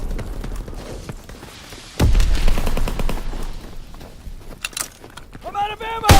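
Bursts of rapid automatic gunfire and single shots in Call of Duty on PS4 Pro, loud and close, with a heavy blast near the middle and voices talking over the action.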